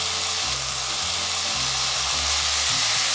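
Minced garlic sizzles steadily in a hot pan over medium heat, a loud, continuous frying crackle with soft stirring scrapes, no voices.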